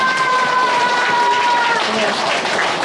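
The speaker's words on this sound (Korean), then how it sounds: "큰 박수 한번 부탁드리겠습니다" Sustained applause from a crowd fills the whole stretch, loud and steady, with a faint tonal hum running beneath for the first half.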